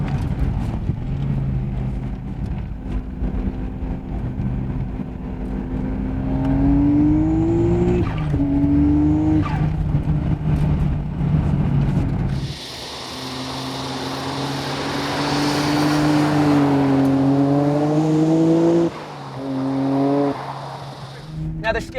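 A Nissan R32 Skyline GT-R with a Getrag 6-speed gearbox accelerating hard through the gears, engine note climbing and dropping at each shift, heard from inside the car with someone talking over it.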